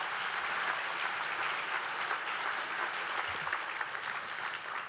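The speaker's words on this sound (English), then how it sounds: "And we can give Stephanie a round of applause." An audience at a historic preservation conference luncheon applauds Stephanie Toothman of the National Park Service with steady, dense clapping that holds at an even level throughout, with no voices over it.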